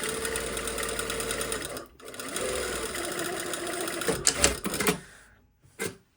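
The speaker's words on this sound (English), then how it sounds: "I want to understitch this seam allowance to the fly, not to the trousers." A sewing machine stitching fabric up close to understitch a seam allowance to a trouser fly, a rapid steady mechanical whir that stops briefly, runs again, then ends with a few short clicks and bursts.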